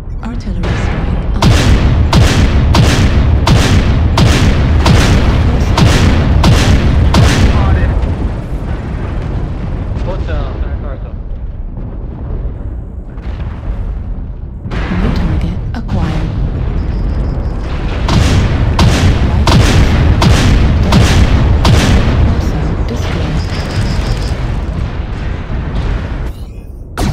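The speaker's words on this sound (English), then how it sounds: "Artillery strike." Artillery strike explosions in MechWarrior Online, heard as two long barrages of rapid, loud booming blasts, one at the start and one near the end, with a quieter rumbling lull between them.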